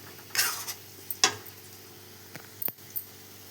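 Spices fry in a pan for a spicy potato dish, with a soft sizzle under sharp metal clinks and scrapes of a spoon stirring, several distinct knocks spaced irregularly.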